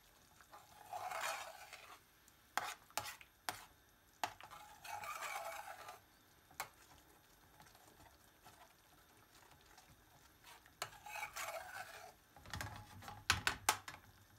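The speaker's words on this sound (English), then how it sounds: "Then add the lentils and stir in." A spoon stirs lentils into a curry in a pan, giving soft scraping bursts separated by quiet gaps, with a cluster of sharper clinks and knocks near the end.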